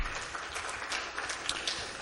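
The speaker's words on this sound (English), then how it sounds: "So a round of applause for Brian." An audience gives a speaker a round of applause, a faint, diffuse patter of many hands clapping at once, steady and fairly distant throughout.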